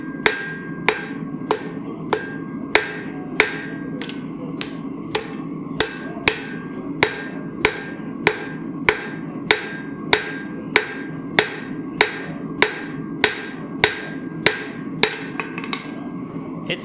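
A forging hammer strikes hot metal on an anvil in a steady rhythm of about two sharp, ringing blows per second, close and loud, over a low background hum.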